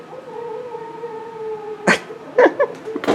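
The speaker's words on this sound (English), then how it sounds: "I think my dog is in the other room dreaming" Lucy the dog making noises in her sleep while dreaming: a long, thin, high whine followed by several short muffled yips and whimpers, close and fairly loud.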